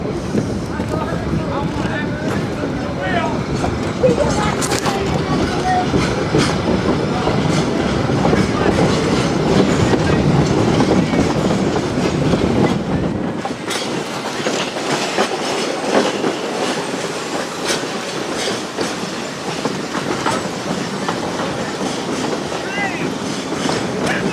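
West Side Lumber Shay #9 steam locomotive running on the Georgetown Loop Railroad: steady rumbling, clattering rail noise with rhythmic clicks, a shift to lighter rolling midway, and people talking over it throughout.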